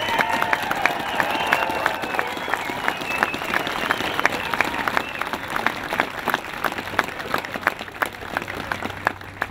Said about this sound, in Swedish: Ja, värt en applåd.